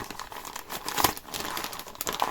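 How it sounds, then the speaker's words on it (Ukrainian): Crinkling of a plastic zip bag from a cross-stitch embroidery kit, a steady rustle of handling noise with a couple of sharper crackles, close up, no talking. "Тут у нас такий зіп-пакетик."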